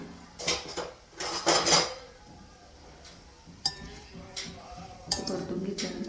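Grated coconut and sugar are stirred in a pan, giving bursts of metallic scraping and clinking of a spoon against the pan, close and moderately loud, with quieter stretches between strokes.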